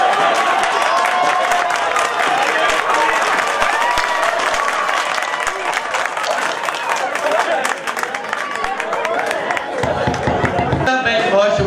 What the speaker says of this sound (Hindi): बहुत शुक्रिया तालियों का